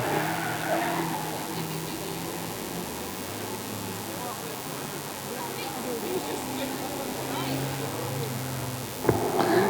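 Mini race car running fast around the Cowdenbeath racewall in a Streetstox race, a steady engine drone with tire noise throughout, heard under continuous commentary and ending with a sharp knock near the close.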